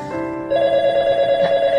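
A telephone rings in a drama scene, a loud steady electronic tone that shifts pitch after half a second and then holds, with no talk over it.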